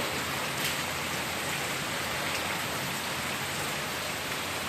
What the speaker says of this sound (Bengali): কি বাজেভাবে বৃষ্টি হচ্ছে